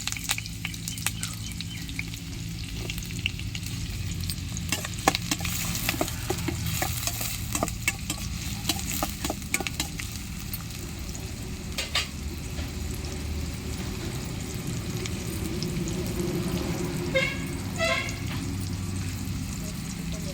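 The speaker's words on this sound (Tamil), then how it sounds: "வெங்காயம் கருவேப்பிலையும் போட போகிறோம்." Onions and curry leaves sizzle and fry steadily in a pan over a wood-fired stove, with occasional scraping stirs and clinks throughout and a few soft sounds near the end.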